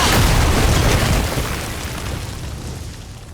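A loud, close explosion of bombs in God of War (2018), a heavy boom that peaks at the start and then slowly rolls off into a long, fading rumble.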